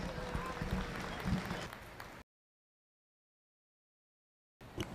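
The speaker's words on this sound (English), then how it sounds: "Give them a round of applause." Crowd applause at a 4-H/FFA dairy cattle showmanship event, a dense burst of clapping up close, cut off abruptly partway through and resuming briefly at the end.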